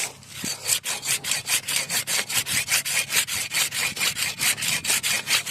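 An old Soviet-made garden hand saw with freshly re-cut teeth rasps through wood in quick, even back-and-forth strokes, about twenty close, loud strokes in a steady rhythm, with no talking.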